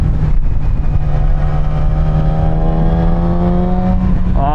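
A Yamaha R6 sport motorcycle's engine drones loudly and close, with a steady low note and harmonics that climb gradually as it gains revs, ending in a sharper rise; no talking.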